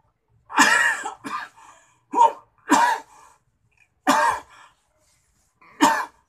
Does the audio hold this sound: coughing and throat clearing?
yes